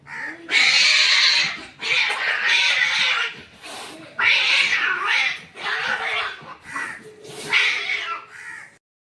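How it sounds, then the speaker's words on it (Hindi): Cats fight outdoors, with a series of loud, drawn-out yowls and caterwauls rising and falling in pitch, each lasting a second or two with brief pauses between them. "बिल्लियाँ लड़ रही थी, दिखाया ना मैंने आपको"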